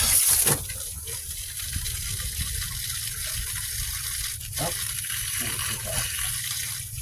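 Old coolant and water pour out of a Ford Focus engine during a heater core and engine flush, a steady broadband gush that runs throughout at moderate loudness.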